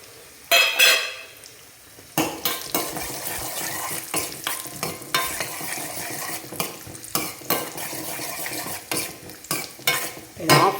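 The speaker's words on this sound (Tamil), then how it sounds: "இதிலே வந்து முந்திரியை வந்து போட்டு விட்றேன்." Cashews fry in hot ghee in a pan, giving a continuous close sizzle broken by repeated clinks and scrapes of a spoon stirring against the metal.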